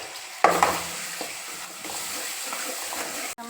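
Tomatoes added to a chana masala pan, giving a sudden burst of sizzling followed by a softer steady fry with a few stirring scrapes, close by and without talk.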